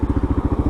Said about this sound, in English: Little crackle and pop there, which could suggest it's running lean